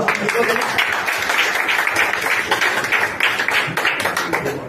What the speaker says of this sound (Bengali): একবার জোরে হাততালি মারুন তো।